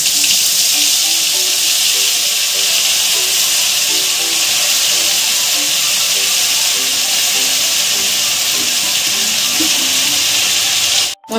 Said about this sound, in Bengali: তেল আর বাটারটা গরম হয়ে গেছে, এর মধ্যে আমি যে মশলার পেস্টটা করে রেখেছি বন্ধুরা সেটা দিয়ে দিচ্ছি